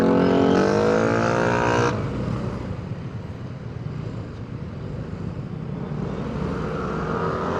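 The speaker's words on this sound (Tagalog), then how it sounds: "Traffic." Road traffic near the General Alejo Santos Bridge in Bulacan, heard from a Yamaha Mio Gravis scooter. A loud vehicle engine roars close by and drops away after a couple of seconds, leaving steady wind and engine rumble.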